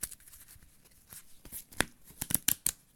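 A hand of Pokémon trading cards is shuffled close up, quiet rustling building into a series of sharp card snaps and flicks toward the end.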